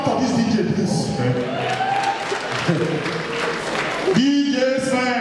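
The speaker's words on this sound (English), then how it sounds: "Can anybody clap for this DJ, please?" Audience clapping and cheering for a DJ at a live comedy battle show, a steady wash of applause from a crowd with voices mixed in, ending in a brief lull.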